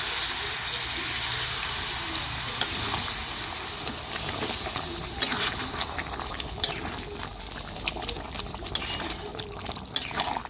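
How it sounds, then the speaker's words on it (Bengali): Hot water poured into browned chicken curry in a pan, a steady liquid gush and sizzle up close, followed by scattered clinks and stirring. "এখন অল্প পরিমাণে জল দেবো।"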